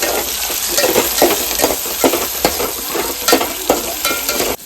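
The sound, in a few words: stirring potatoes with chillies and tomatoes frying in a pan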